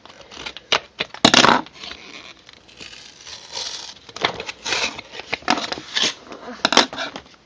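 Plastic packaging of a Daiso purchase crinkles and snaps as scissors cut it open, in irregular bursts of sharp rustling and crunching close to the microphone, with no talking.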